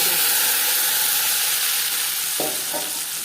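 Bay leaf and panch phoron spices frying in hot oil in a kadai, a loud, dense, continuous sizzle with a couple of brief stirring scrapes near the end.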